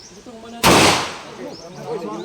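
A single loud, sharp gunshot cracks at a firearms proficiency firing range and decays quickly, with voices talking before and after it.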